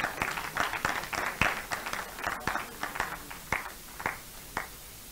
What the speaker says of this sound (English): Is a round of applause for them.